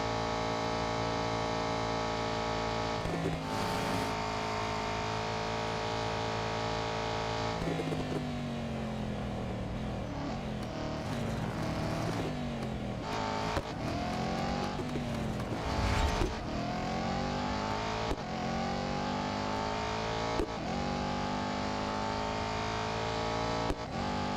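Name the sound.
race cars driving in the video game Real Racing 3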